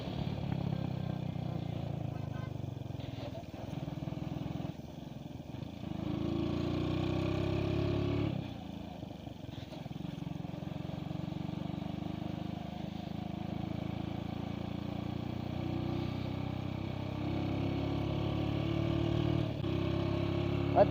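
A motorcycle engine runs steadily while riding, a slight mechanical fault present, with a sustained mid-loud drone, a few dips and rises in revs, and faint wind noise throughout.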